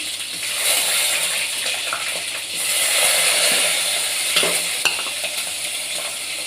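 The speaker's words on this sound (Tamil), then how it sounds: "வெங்காயம் போட்டுக்கலாம், பச்சை மிளகாயும் போட்டுக்கலாம்." Sliced onion and green chili fry in a pan over a low flame, a steady close sizzle and hiss with the scrape of stirring rising and falling throughout.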